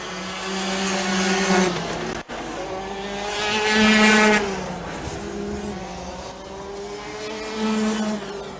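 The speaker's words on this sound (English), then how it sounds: "It's much louder than the other karts. It's got a crisp, deep noise to it." Rotax Max racing kart engines howl on a track at a Namibian national karting meet, their revs rising and falling as karts approach and pass, with one loud, crisp, deep-toned kart standing out among the others.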